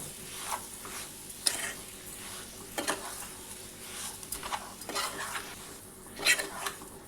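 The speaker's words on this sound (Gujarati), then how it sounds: "આપણે જેમ જેમ તેને હલાવતા ગયા છે એમ લોટ દૂધને એબ્ઝોર્બ કરી લીધું છે" Wheat flour and milk cooked in a pan for barfi, stirred with a utensil: soft sizzling under intermittent scraping and clinking strokes, fairly quiet and close.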